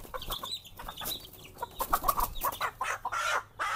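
Chickens recovering from a cold with runny noses cluck in irregular, nearby bursts, soft to moderately loud, with no talk.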